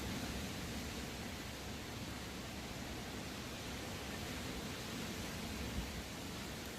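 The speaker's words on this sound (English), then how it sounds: "I'm sure you guys can hear the waves crashing in the background." Ocean waves break on a shore during a seaside fishing trip, heard as a steady, faint wash of broadband surf noise with no distinct individual crashes and no talk.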